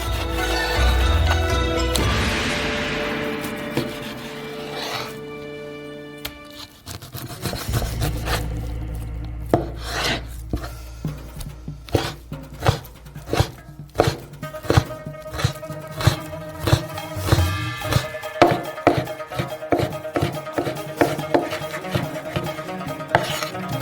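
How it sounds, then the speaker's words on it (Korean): Knife blade chopping pork on a cutting board in a quick, steady series of sharp chops, close up, with faint kitchen clatter and no talking. "돼지고기도 똑같이 잘라주세요."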